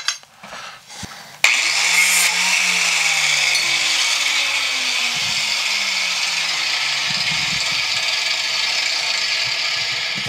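A power tool cuts down a golf iron shaft, starting after a few clanks with a loud, steady high whine that holds for several seconds, its pitch sagging slightly under load while the grinding continues.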